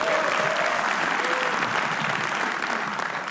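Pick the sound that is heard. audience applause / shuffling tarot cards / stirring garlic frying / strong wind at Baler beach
audience applause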